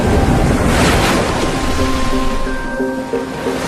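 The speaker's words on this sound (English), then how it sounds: "Coral reefs surround the island, breaking the waves into perfect pipelines that beckon surfers from around the world." Ocean waves break over the coral reefs surrounding a tropical island, a loud continuous roar of surf with wind noise and rushing water throughout, no talking.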